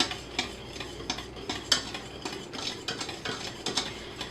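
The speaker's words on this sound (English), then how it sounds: "I'm just going to keep stirring" Toffee mixture being stirred in a saucepan, a spoon scraping and clicking against the pan in a steady, fairly quick rhythm of light repeated strokes, close and alone with no voices.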